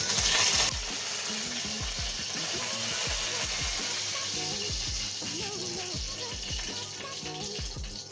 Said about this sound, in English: now it's time to add some mustard seeds and add some curry leaves